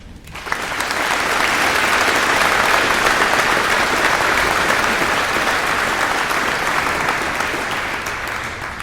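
An audience at a school Veterans Day ceremony applauding to welcome Senator Steve Nass, a full steady burst of clapping from a large crowd that builds quickly, holds for several seconds and gently tapers.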